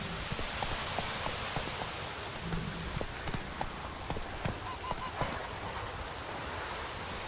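Rain falls steadily in The Witcher 3, a soft, constant hiss of drops, with scattered sharper taps and faint clopping hooves over it.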